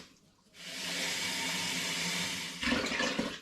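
Tap water poured from a 500 ml jug into a pot of apple puree for cordial, a steady broadband splashing pour lasting about two seconds, then a brief louder gush and slosh near the end.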